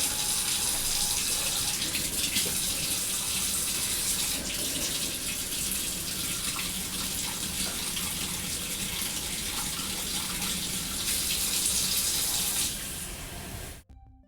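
Lukewarm water runs from a kitchen tap in a steady, hissing gush that fills a measuring cup continuously before cutting off abruptly at the end.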